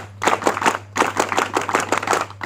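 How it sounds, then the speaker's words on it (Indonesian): A group performs a rhythmic scout clap at a scout council installation in Batam, in two crisp patterned rounds separated by a brief pause, with a steady low electrical hum underneath. "Dua kali tepuk pramuka."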